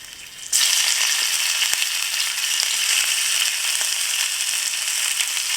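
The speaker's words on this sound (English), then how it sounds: "Once the oil is hot, add the ginger" Ginger and hot pepper sizzle in hot olive oil in a pot, a loud, continuous bright frying hiss that bursts in suddenly and stays steady, with faint pops.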